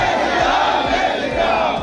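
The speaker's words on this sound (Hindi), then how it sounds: "दोनों हाथ उठा करके मेरे साथ कहेंगे, हेमंत आदा को जय श्री राम" A large political rally crowd chants Jai Shri Ram in unison, loud and close, with rhythmic repeated shouts rising over a dense roar of voices.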